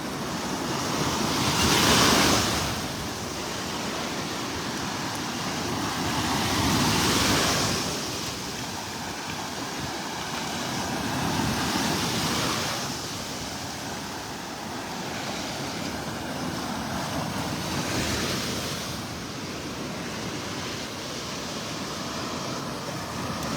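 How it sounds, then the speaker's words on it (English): Small ocean waves break on a Gulf beach in North Naples, Florida, under light drizzle, arriving as close, rhythmic washes about every five seconds over a constant surf hiss, with some wind rumble on the microphone. "those little waves are pretty strong if you happen to be standing right where they're breaking"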